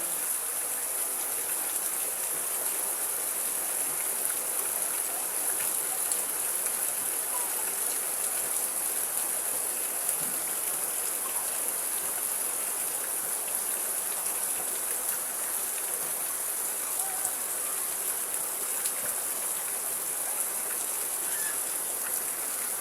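Heavy rain pouring outside a house, a dense, constant hiss of downpour on surfaces that holds steady throughout, with no talk.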